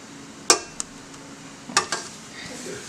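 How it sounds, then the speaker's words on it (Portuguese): A metal spoon scrapes cooked sweet mixture out of a pan into a buttered dish, giving a few sharp clanks and scrapes with quiet pauses between them. "Raspa bem, tira tudo aí da panela."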